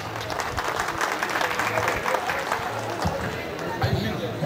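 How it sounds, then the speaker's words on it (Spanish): At a Normande cattle livestock show in Pasca, an audience claps in moderate applause mixed with crowd chatter, while talk carries on over it throughout. "El aplauso del público."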